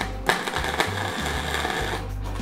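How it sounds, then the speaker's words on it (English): Steel being welded on a DIY gym weight tree, a steady buzzing crackle that starts and stops in short bursts, close and fairly loud with no talk. "So let's go ahead and put a weld on this thing."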